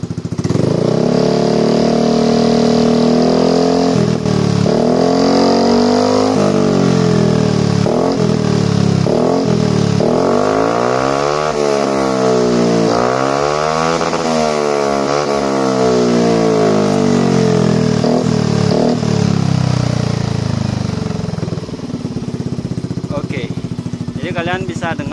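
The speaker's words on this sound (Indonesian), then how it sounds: "Coba digas motornya." A Yamaha NMAX scooter fitted with a BEST3 KW exhaust is revved hard to high RPM, its loud, raspy engine note rising and falling through several sweeping throttle blips before settling near the end, close to the recorder.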